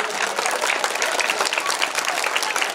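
Dense, sustained applause from a large crowd at a school sports day in Shivamogga, loud and even throughout, with a few voices faintly under the clapping.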